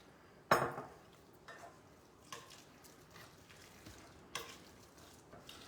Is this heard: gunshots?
no